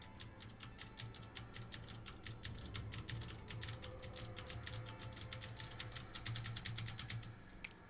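Clicky computer keyboard keys tapped in quick, uneven bursts of sharp close clicks throughout, over a low steady hum during a gaming session, with no talk.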